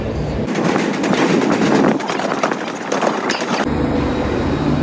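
A train with WDG4 diesel locomotives passing through Subrahmanya Road station, a loud close roar with rhythmic clatter of wheels that cuts off abruptly toward the end.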